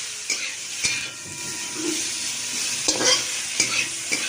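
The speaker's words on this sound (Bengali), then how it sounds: "তো তারপর কপিগুলো ভাজতে দেওয়া হয়েছে।" Cauliflower pieces fry in a pan at home with a steady soft sizzle, broken by a few sharp clinks and scrapes of a utensil stirring against the pan.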